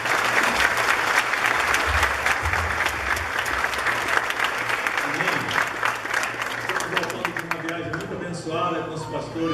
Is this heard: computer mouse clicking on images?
no